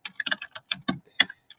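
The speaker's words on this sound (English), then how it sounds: "you're going to hear a lot of me typing and not talking" Fingers patter on a computer keyboard in a quick, uneven burst of close, light key clicks, with no talking.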